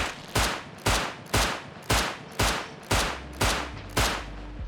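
Revolver fire in the video game Rust: eight sharp, loud gunshots spaced evenly about half a second apart, each with a short decaying tail. There is no talk.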